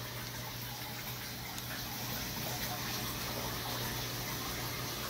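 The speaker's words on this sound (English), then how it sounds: "And he's also happy to be getting a water change." Water running steadily during an aquarium water change in a home fishroom, a continuous gushing, hissing flow with no breaks, heard up close and alone.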